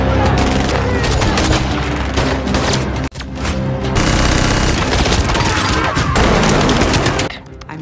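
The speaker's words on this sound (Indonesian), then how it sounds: "Orson pun ditodong senjata, namun tiba-tiba dor." Dense gunfire in a spy action film, a continuous fusillade of loud shots and booms that fills the whole stretch with only a brief break partway through.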